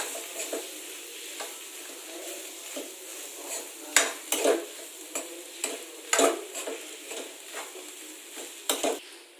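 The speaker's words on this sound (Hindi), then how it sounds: "अब इसे हम अच्छी तरह से मिक्स कर लेंगे।" A spoon stirs onion samosa filling in a pan, scraping and clinking against the metal in irregular strokes over a faint steady sizzle, close and fairly quiet, with no talking.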